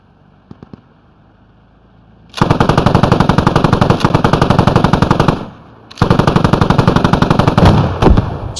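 Russian PKP machine gun laying down suppressive fire in a long sustained burst, then a short pause and a second long burst, loud and close, with a few faint distant shots before it.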